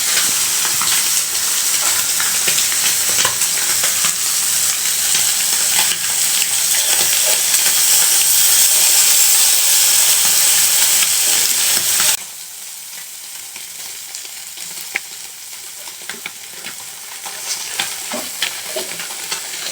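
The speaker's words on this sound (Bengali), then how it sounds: "আর এদিকে আমি একটু মশলা ভাজি" Spices sizzle and hiss loudly in a hot pan while being stirred, a dense steady frying noise that suddenly drops to a quieter crackle partway through.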